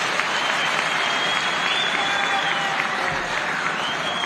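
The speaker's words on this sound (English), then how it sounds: "Let's clap for them." Dense, steady applause from a large audience at a councillors and local government meeting in a big conference hall, filling the whole stretch at constant loudness with a faint background tone.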